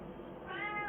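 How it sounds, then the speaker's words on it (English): A house cat gives a single short meow, faint and rising in pitch toward the end, heard alone against a quiet indoor background. "Excuse the cat,"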